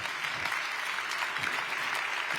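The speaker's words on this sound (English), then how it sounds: "give yourself a huge round of applause" Faint, steady clapping from a group, a continuous patter of applause heard at a distance.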